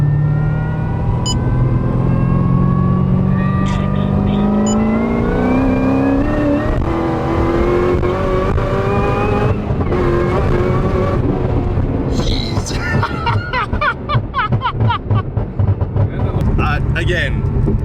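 A Chevrolet Corvette C6 ZR1 accelerates hard, its supercharged engine roaring loud and close as pitch climbs steadily through the rev range, followed by a gear change and rougher rumble, with a voice talking over parts of it.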